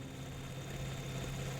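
Generator engines in the Factorio Krastorio 2 game hum steadily at idle, a low continuous drone with a faint mechanical vibration and no pauses.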